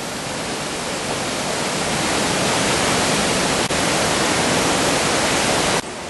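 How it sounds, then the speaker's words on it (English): A waterfall on the River Eden near Kirkby Stephen in Cumbria, seen from a viewing platform, pours over and under rock in a loud, steady, close roar of rushing water that continues without pause. "you can see from the viewing platform the falls at the back, and the water's running under the rock"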